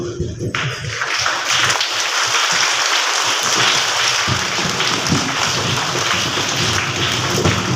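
Young children at an LKG and UKG class assembly clapping together in sustained, dense applause that stays loud and even from start to finish, with no words spoken.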